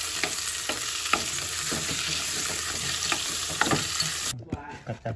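Chopped loach pieces sizzling as they are stir-fried with lemongrass and chili in a pan, a steady close hiss punctuated by scraping stirs, ending in a few clatters.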